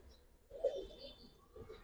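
Big Indian kaldam pigeons give a soft low coo, one short rounded call rising briefly over a quiet room, followed by a fainter murmur, close by and alone.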